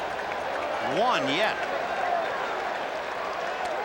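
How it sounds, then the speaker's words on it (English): A baseball crowd at Game 6 of the 1986 World Series with the New York Mets roars and applauds steadily throughout, a broad wash of cheering beneath a voice talking over it. "The crowd trying to spur him on now"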